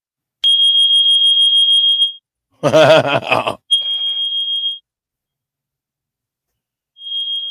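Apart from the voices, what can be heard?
alarm sound played on stream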